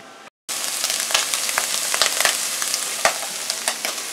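Shrimp and scallops fry in a pan with a dense, steady sizzle and scattered sharp crackles and pops, close and loud, with a brief dropout near the start.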